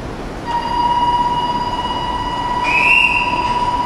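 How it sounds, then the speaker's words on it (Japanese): A Meitetsu 2330 series limited express electric train to Nagoya hums loudly nearby at Kanayama Station, its steady motor whine holding a tone while a higher whistle rises as it pulls away. "1番線から電車が発車します。"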